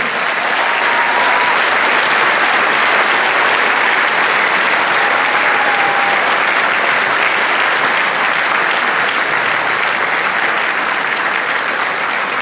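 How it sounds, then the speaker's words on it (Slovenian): A large concert audience breaks into loud, sustained applause, a dense and steady wash of clapping that keeps going without a break from start to finish. "Dajmo še en velik aplavz."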